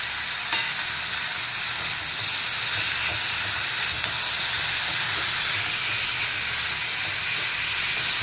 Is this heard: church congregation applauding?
no